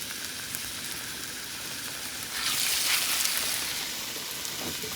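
Ash gourd slices coated in gram flour batter frying as fritters, a continuous hiss of bubbling oil that swells louder midway as more pieces go in.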